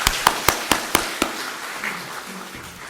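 At a church worship service, six sharp, evenly spaced claps ring out in quick rhythm near the start, then give way to a fading murmur of room noise.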